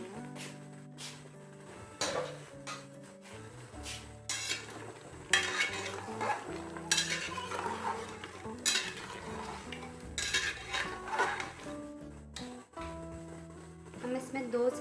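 Goat trotters being fried with spices in a pot give off irregular clanks and scrapes of a spoon against the metal, with a faint sizzle underneath, while someone talks over the cooking throughout.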